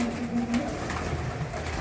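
Pearl-spotted pigeons kept as pets coo close by, a low soft throaty murmur running through the short stretch with no voices.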